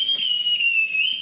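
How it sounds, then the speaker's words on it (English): A ship captain's whistle summons the children with one long, shrill, steady blast that slides slightly in pitch and sounds loud and close, with no other sound. "I can't bear being whistled for."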